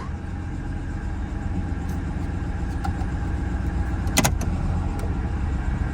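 A used police car's engine idles with a low, uneven rumble, steady but slightly rough, with a brief sharp clank partway through; its check engine light is on.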